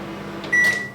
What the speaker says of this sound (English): So microwave, let's give it 10 seconds and see.